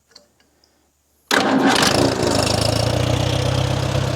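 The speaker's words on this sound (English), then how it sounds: "Always make sure your tractor's in neutral before you start if you are on the ground." Allis Chalmers tractor engine cranks and catches after a second of near silence, then settles into a loud, steady, close idle with an even throbbing rhythm.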